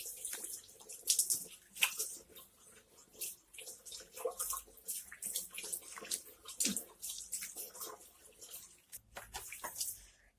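Water splashes and runs as a homemade papaya facial is rinsed off the face, with uneven bursts of splashing and dripping close by over a running trickle, and no talking.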